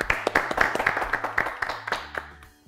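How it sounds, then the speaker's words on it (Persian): A studio audience on a quiz show claps for a contestant, a sparse, rhythmic round of individual hand claps that thins out and fades after a couple of seconds. "تشویق کنین قاری صاحب را."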